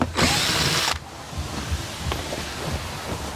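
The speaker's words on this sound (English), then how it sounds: "if you have a nut driver like this, it's much quicker this way" A power nut driver whirs loudly in a short high-pitched burst for about a second while installing a Ford sound system, then cuts out, leaving low mechanical rattling and handling noise.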